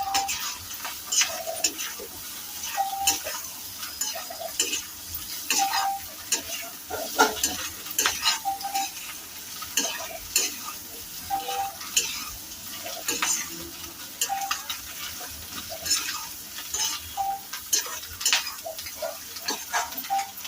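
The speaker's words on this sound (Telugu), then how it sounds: "ఒకసారి కలుపుకుందాం." Eggs fry with chili powder in a pan while a spatula stirs them, giving repeated scraping taps and clinks over a steady close sizzle, with no talking.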